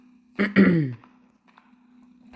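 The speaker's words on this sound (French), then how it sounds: "Je tousse un peu et j'éternue," A single short, throaty cough from someone with a cold, close to the microphone, followed by quiet background hum.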